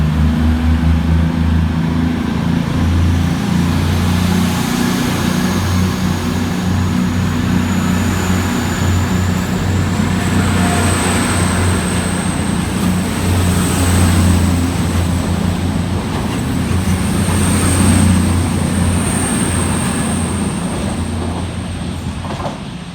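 Two coupled cross-country Class 220 diesel units, 220015 and 220028, pull out of Southampton Central station with a loud sustained engine drone that builds gradually, wheels rumbling on the rails as they depart.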